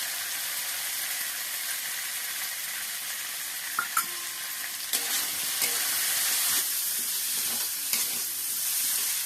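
Ginger, cumin and tomato paste with turmeric frying in a pan with a steady hiss, with a few clinks of stirring, and no one speaking.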